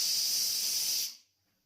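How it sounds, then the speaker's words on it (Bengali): A pressure cooker boiling cabbage releases a strong, close hiss of steam that holds steadily for about a second, then cuts off quickly into near silence. "দেখো একটা সিটি দিয়ে আমি নামিয়ে নিয়েছি"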